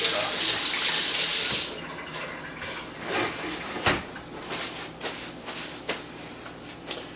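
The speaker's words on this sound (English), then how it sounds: "obviously you're going to rinse your hands. Wash your hands" Water running from a tap while hands are rinsed after mixing beef jerky in a basement, a steady splashing stream for nearly two seconds, then scattered clunks and light handling noises.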